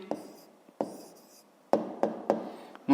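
A pen scratches out short handwritten strokes on paper for a math exercise answer, several crisp separate scribbles with brief pauses between them, close and clear with no talking.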